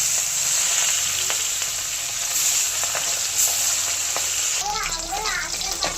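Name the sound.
fish frying in oil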